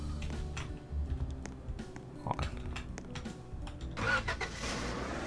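A truck engine in the Roblox game Lumber Tycoon 2 drones and revs at a steady mid pitch while accelerating, with a brief louder surge near the end.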